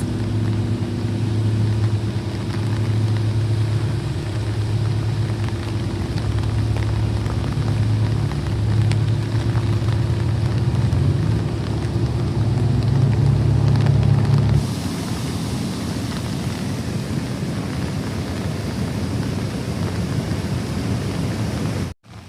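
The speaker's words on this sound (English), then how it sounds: "now it is pouring rain again. It is an absolute torrential downpour." Torrential pouring rain in Seattle hammers down in a steady, dense roar, loud and close, with a low rumble beneath it for the first stretch before the downpour continues alone.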